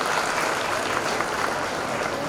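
An audience at a Madapur government school event, where Mallanna distributes shoes to students, applauds loudly and steadily, a dense wash of many clapping hands heard up close throughout.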